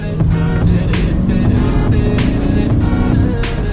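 A 15-year-old BMW M5 runs with a loud, steady engine and exhaust drone up close, the revs rising and falling in short surges.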